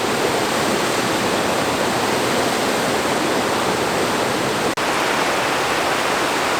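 Waterfall at Fossil Creek pouring steadily, a dense, loud, unbroken roar of falling water heard close up, with one brief dropout near the end.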